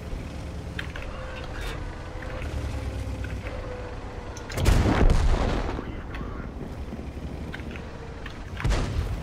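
Artillery fire in World of Tanks, with a KV-5 tank battle underway: a heavy boom bursts loudly midway over rumbling engine and mechanical noise, with another shot near the end.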